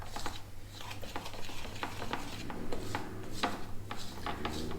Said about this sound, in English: make sure you can mix these ingredients up properly and thoroughly